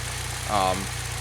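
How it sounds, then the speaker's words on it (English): A Saab with a deeper exhaust idles quietly with a low steady rumble, a brief uneven stumble swelling in the exhaust note near the middle before it settles back. "you can kind of hear the exhaust stumbling a little bit"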